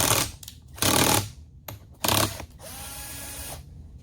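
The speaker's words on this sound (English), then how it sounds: "I usually take this bolt out on the back instead of taking that off." A bolt is worked out of the back of a Stihl Kombi engine with a ratchet. Two loud bursts of rapid ratcheting clicks are separated by quieter mechanical clicks and shuffling, heard close up with no talking.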